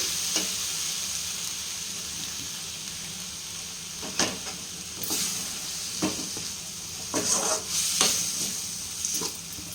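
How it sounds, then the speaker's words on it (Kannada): Homemade noodles fry with tomato sauce in a pan, giving a close, steady sizzle broken by several sharp scraping stirs and spatters, with no voices. "ಸೊ ಹಾಕ್ಕೊಂಡಾದ್ಮೇಲೆ ಮತ್ತೆ ಅದನ್ನು ಫ್ರೈ ಮಾಡಿ."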